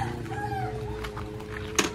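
Chickens in a home yard cluck in short wavering calls, moderately close, over a steady background murmur, with a sharp knock near the end.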